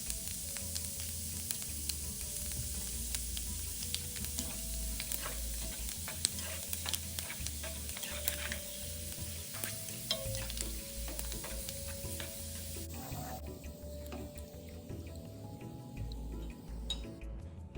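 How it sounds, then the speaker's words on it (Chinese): Shredded ginger frying in hot oil gives a steady, even sizzle and crackle that carries on unbroken at low level, with no voices over it. "喜欢姜丝的朋友可以预先油炸一点姜丝"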